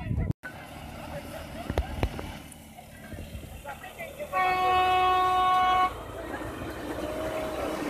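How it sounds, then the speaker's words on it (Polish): A train sounds a long horn blast as it pulls away at a handcar picnic in Bronowo, with rumbling rail noise, a few clanks and people talking nearby. "pierwszy pociąg pojechał"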